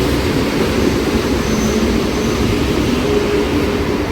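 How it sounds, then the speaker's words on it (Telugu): Two locomotives hauling a loaded coal train rumble loudly and steadily at close range as they slow to a stop, a continuous heavy drone with no voices. "రెండు ఇంజిన్లు ఆగుతున్నాయి."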